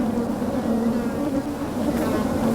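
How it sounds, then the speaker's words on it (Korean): A dense swarm of flies hums over a seaside village, a steady, close, droning buzz with no gaps, unbroken by voices. "그저 많은 정도가 아니라 파리떼가 온 마을을 뒤덮었다"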